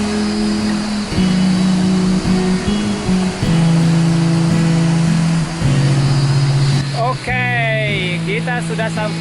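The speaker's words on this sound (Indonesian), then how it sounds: "Inilah air terjun guys, air terjun Sungai Kopu." The Sungai Kopu waterfall in a quiet jungle setting gives a steady, broad rushing roar beneath someone talking nearby.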